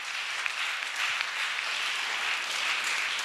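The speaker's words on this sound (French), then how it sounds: "On acclame, on acclame," A church congregation applauding, dense continuous clapping from many hands, steady and fairly close, with no talk over it.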